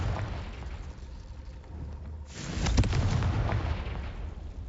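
A Confringo spell explosion in Hogwarts Legacy, a single loud burst landing about midway, followed by a rumbling, crackling tail over a steady low game background.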